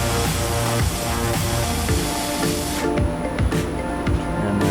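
Welding a rebar handle onto the end of a Damascus steel billet, a close, continuous crackling arc hiss with sharp irregular pops and spits throughout.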